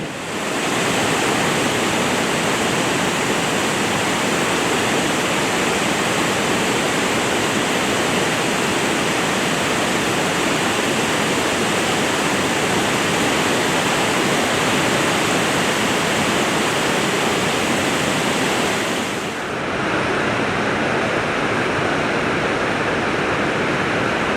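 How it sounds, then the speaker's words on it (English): Rushing river water roars through Bailey's Chute on the main river in Wells Gray Provincial Park. It is a loud, steady, close wash of white noise that dips briefly near the end and then resumes. "here we are at a viewpoint called Bailey's Chute on the main river"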